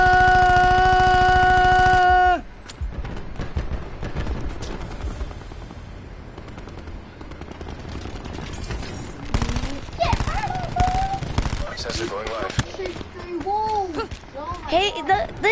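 Gunfire in Call of Duty Black Ops 4, rapid bursts and scattered shots amid chaotic match sounds, following a loud sustained tone at the start, with a young player talking and exclaiming over it.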